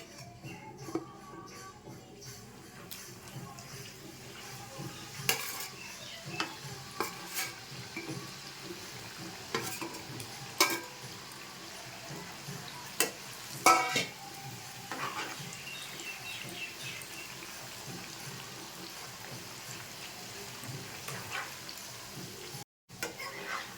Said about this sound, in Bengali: তেলটা গরম হয়ে গেছে, এবার মুরলিগুলো ছেড়ে দেবো।